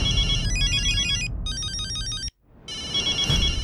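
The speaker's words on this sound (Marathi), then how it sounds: "बाबांचा फोन." An electronic phone ringtone plays a repeating high melodic pattern, cutting out briefly in the middle before resuming.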